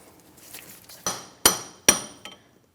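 Metallic impacts knocking an axle loose from the front wheel hub of a 2005-2010 Chrysler 300, three or four sharp ringing hammer strikes close up, spaced about half a second apart, with no talk.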